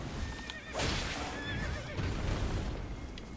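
A horse in Elden Ring whinnies loudly with a shrill, wavering neigh, over a busy rumbling background and hoof clatter.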